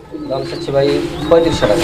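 Pigeons in a loft coo close by, one a male sitting on eggs. Low, throaty, repeated coos roll out in quick succession with a faint higher note above.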